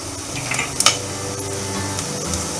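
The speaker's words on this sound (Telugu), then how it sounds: "శనగపప్పు వేస్తున్నాం చూడండి." Chana dal tipped into hot oil in a pan for a Telugu perugu vada recipe, giving a soft continuous sizzle with a few sharp metallic clinks of a spoon against the pan.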